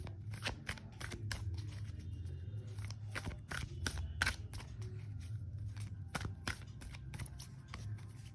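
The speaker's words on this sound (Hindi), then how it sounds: "पहले इसको शफल कर लेते हैं" A deck of tarot cards shuffled by hand, giving a quick run of crisp riffles and soft snaps in an irregular rhythm, close and fairly quiet with no talking.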